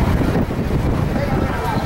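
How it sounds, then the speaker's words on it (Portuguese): Strong wind buffets the microphone in a steady, loud low roar on the coast at Arraial do Cabo, with no other clear sounds. "Tá ventando muito."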